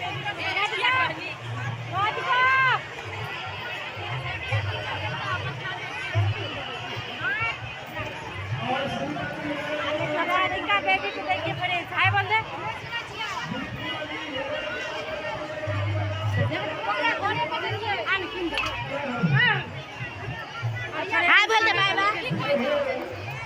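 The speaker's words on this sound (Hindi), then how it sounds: "मेला पे कितना भीड़ भड़का है, आप सब देख सकते हो" Dense crowd hubbub at a Shivratri fair, a continuous babble of many voices and distant chatter filling the air, with people talking nearby throughout.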